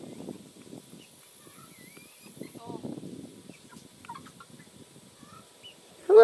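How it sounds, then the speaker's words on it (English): Young chickens on a homestead, nearly grown but still with a thin chick cheep, give scattered short calls through a quiet yard, close by, with a few louder clucks and gobble-like sounds mixed in. "These chickens are kind of cute because they look like normal chickens, but then they still have that little tiny chick cheep to them."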